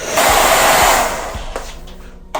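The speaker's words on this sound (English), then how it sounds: "We're gonna take our blow dryer and our comb, put it on heat." Blow dryer set to heat drying hair during a high taper haircut, a loud steady rushing whoosh that runs for over a second, then cuts off with a few light clicks and handling noises.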